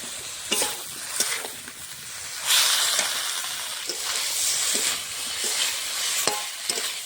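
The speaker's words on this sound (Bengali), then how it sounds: "সবজির সঙ্গে এখন মশলাটা কষিয়ে নেব।" Spices, vegetables and greens being stir-fried in a pan for a fish curry with greens, a steady close sizzle broken by repeated scraping stirs of the spatula, with no talking.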